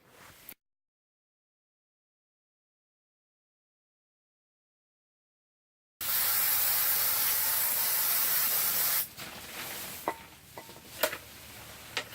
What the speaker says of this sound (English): spraying the glue on, flocking it